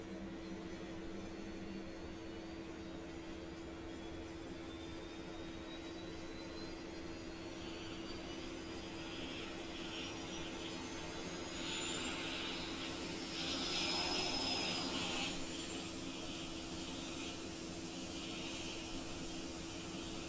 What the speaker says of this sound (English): listen to the startup sounds for the APU